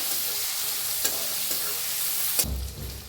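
Eggplant masala with red chili powder and chopped tomato being stirred in a frying pan, a steady sizzle with scraping spoon strokes and a couple of sharper clinks, close and alone.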